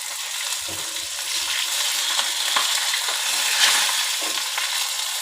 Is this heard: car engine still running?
no